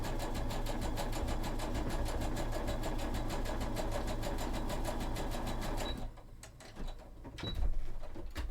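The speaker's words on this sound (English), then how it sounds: "Just overlocking the seams so they're nice and neat because there's no lining." An overlocker sewing the seams of a red satin blouse runs in a fast, steady mechanical whir for about six seconds, then stops, leaving a few faint clicks and handling noises.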